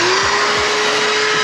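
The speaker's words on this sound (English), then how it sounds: "after I vacuum this shit real quick" Vacuum cleaner running inside the interior of a turbo Mitsubishi Eclipse, a loud steady whine with a sustained tone and brief dips in pitch as the nozzle moves, close and alone.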